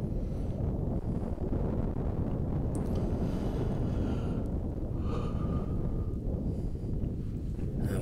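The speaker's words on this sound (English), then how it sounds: "Wind picking up here." Wind blowing steadily across an outdoor disc golf course during a tournament round, a continuous broadband rush with gusty buffeting on the microphone and no talk.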